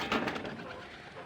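A racing pigeon back home after a race in Bambang, Nueva Vizcaya, gives a short soft coo, close and low, just after the rain has stopped.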